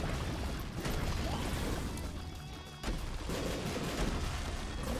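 Continuous dense barrage of booming blasts and crashing impacts, loud and busy throughout with a brief dip midway, like heavy game explosions and gunfire.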